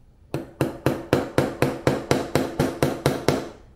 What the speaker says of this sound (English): I just peen over the anvil just a little bit